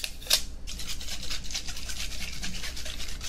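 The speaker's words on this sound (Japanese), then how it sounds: "これあれだよ、シェービングの、ね、フォームの音だよ。" Shaving foam worked onto a beard close to the microphone, giving a soft, steady crackling hiss with a brief brighter burst near the start.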